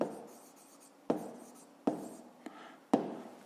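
Numbers written by hand during a fifth-grade math lesson, giving close, soft scratchy strokes with four or five distinct taps where the writing tool meets the surface, no speech.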